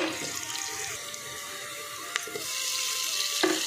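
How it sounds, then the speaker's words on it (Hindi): A traditional Pahadi dish roasts in a pan with a steady, dense sizzle and crackle throughout, with a few sharp clinks of a utensil against the pan, close and fairly loud, no talking. "चलिए इसको भून लेती हूँ"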